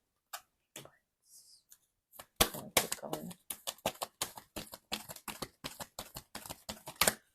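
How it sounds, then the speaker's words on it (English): Rapid, crisp riffles and snaps of a large tarot deck shuffled in halves, in a steady rhythm, close by, with a brief spoken remark early on. "I'm going to shuffle these in half because the deck is so big"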